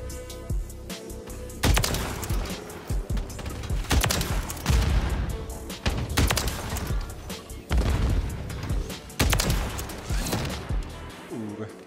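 Small grenade going off in the XRK shooter video game, heavy booms and bursts of gunfire repeating through a busy firefight, loud and close.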